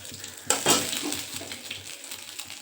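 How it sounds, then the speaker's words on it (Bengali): Food frying in a pan for a pea omelette, a soft steady sizzle with a sharper burst of stirring and clatter near the start, then a continuous low crackle carrying on alone. "ফ্রাই করে নেব।"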